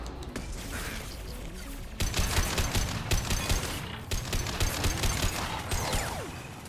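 Concussive rounds fired at robots in Mass Effect 2: after a short quieter lead-in, rapid, loud bursts of gunfire rattle on almost without pause, with sharp impact cracks mixed in.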